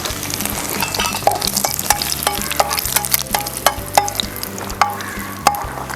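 Mustard seeds and curry leaves frying in hot oil while making upma, a close steady sizzle broken by sharp, irregular popping crackles, with no speech.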